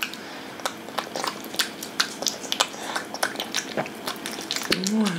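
Close, wet chewing and crunching with quick irregular bites, a dog eating porridge steadily over several seconds.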